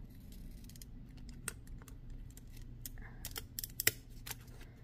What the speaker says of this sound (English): cut them out with the scallop scissors because it's easier that way